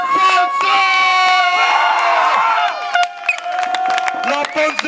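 Crowd at a live wrestling show, a heavyweight being introduced, erupting in loud applause, cheers and shouts, with an announcer's voice ringing over the noise.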